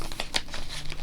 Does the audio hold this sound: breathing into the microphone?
no